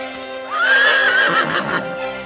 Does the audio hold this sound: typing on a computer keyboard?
no